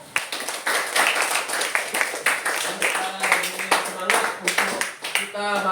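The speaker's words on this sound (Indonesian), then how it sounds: "Kita beri tepuk tangan untuk kelompok 1," Classroom applause for student discussion groups, many hands clapping steadily and fairly loud across the whole stretch, with raised young voices and talk mixed in near the end.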